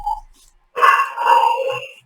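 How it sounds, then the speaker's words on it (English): A stray dog barks close by, with a short yip followed after a pause by a longer, drawn-out bark that wavers in pitch, sounding alone and fairly loud. "The one that is barking? Stray dog."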